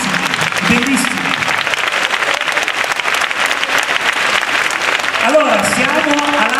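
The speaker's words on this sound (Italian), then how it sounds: "Fatemi un bel applauso più forte" A large concert audience at the Fevi Music Nights in Locarno applauds steadily, a dense wash of clapping, while a voice talks over it through a loudspeaker.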